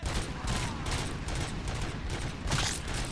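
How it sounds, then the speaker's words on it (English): Repeated burst fire from a held trigger in the RoboCop: Rogue City video game, dense rapid volleys of gunshots running continuously and loudly without pause. "if you hold the trigger, it'll just continuously shoot burst fire"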